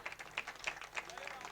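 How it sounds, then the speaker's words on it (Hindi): Applause from an audience at an All India Mushaira poetry gathering in Hyderabad: faint, rhythmic hand claps in a quick regular beat, fairly distant and mixed with a voice speaking over them. "तालियां कमज़ोर नहीं होनी चाहिए"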